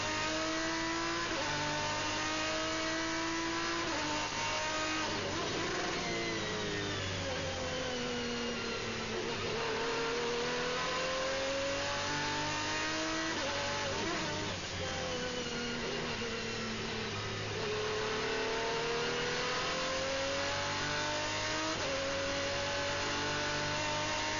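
Several GT race car engines, including Dodge Vipers, rev and whine continuously at the Zolder circuit in 2001, pitch rising and falling as they shift gears, with no pauses throughout.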